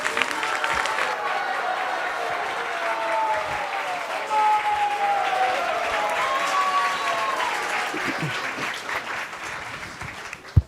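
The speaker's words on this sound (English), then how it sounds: "So please give a big round of applause to welcome the drama." Sustained applause from an audience welcoming a drama performance at a Krishna temple gathering, steady and fairly loud throughout, with a few faint voices and whistle-like tones mixed into the clapping.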